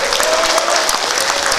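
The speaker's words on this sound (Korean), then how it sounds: "크게 박수 한번 쳐주세요." An audience claps together at a Korean local election campaign event, a dense steady applause filling the short moment, close and loud with no voices over it.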